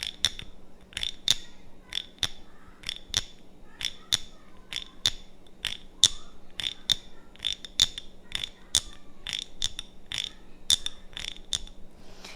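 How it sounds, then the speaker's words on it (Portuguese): A scraped object rubbed back and forth gives a rhythmic, ratcheting croak like a frog, with evenly spaced clicks repeating steadily and close by, without talk. "você faz esse movimento de vai e volta e você consegue esse som parecido com o som de um sapo"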